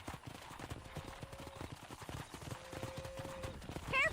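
Steady horse hoofbeats from the video game Red Dead Redemption clop along at a walking pace, fairly faint, with a brief whinny-like squeal near the end.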